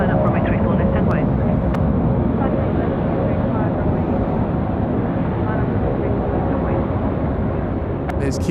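Saab turboprop airliner operated by Link taxiing at Sydney Airport, a steady loud engine drone holding throughout at close range, with brief radio chatter and voices over it.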